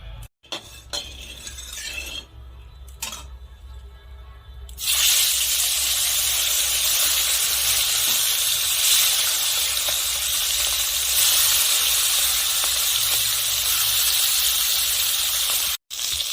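Bata fish frying in hot mustard oil in a kadai, a loud, steady sizzle and hiss that bursts in after a few quiet clinks and then holds throughout.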